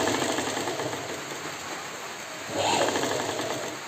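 A sewing machine stitching fabric, a rapid close mechanical whirring rattle running throughout, swelling briefly louder near the end, with no talking.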